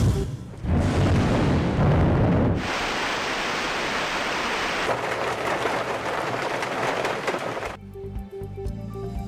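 Heavy storm rain pours down hard across Punjab, Pakistan, a loud dense hiss swelling and shifting over several seconds, with deep rumbling booms of thunder underneath before it tapers off.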